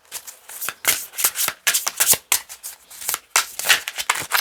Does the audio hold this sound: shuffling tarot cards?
yes